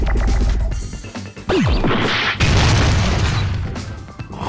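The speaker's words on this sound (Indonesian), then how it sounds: "Kok meledak anjir?" Loud explosions in the video game Danganronpa 2: Goodbye Despair: a falling whoosh into a deep boom, then a second heavy blast that rumbles and slowly fades.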